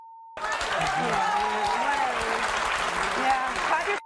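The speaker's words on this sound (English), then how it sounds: "Yeah, clap your hands, Calvin." Studio audience applauding on a daytime paternity talk show, a steady sustained wash of clapping heard under loud overlapping voices throughout.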